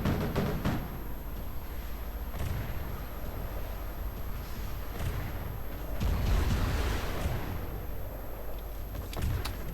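Naval guns in the From The Depths game fire from warships in a sustained, rumbling barrage of booms and blasts that rolls on continuously, swelling louder near the end with no talking.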